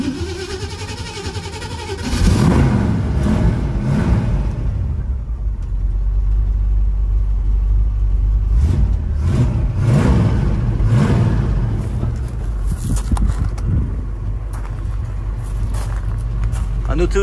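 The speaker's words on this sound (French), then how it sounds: "cette Mustang que je vais vous démarrer" A 1965 Ford Mustang V8 Fastback fires up with a burst, then holds a deep, throaty rumble with occasional revs rising and falling, heard up close.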